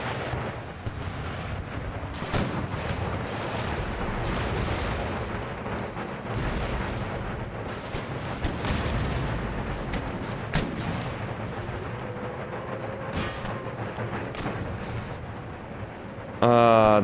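Cannon and artillery fire in an Empire: Total War battle, with repeated booming shots and blasts scattered over a constant rumbling battlefield din, some sharp and near, others dull and distant.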